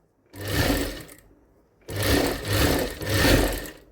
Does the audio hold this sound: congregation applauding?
no